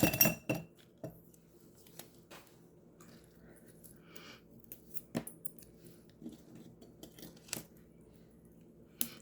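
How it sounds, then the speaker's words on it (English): Scissors snip through flower stems indoors, a few crisp cuts with metallic clicks and small clinks spread across a quiet room, close and fairly faint with no talking. "If I cut these apart, oh, and you know what? Let's cut it again."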